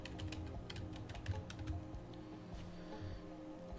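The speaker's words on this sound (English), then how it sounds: "sorry if you hear keyboard sounds" Keyboard typing during a live gaming stream: a quick run of faint, irregular key clicks in the background, with no speech.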